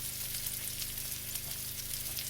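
Chopped onion sizzling in a hot pan while shrimp Alfredo is cooked, a steady crackling fry close to the pan with a low background hum, no talking.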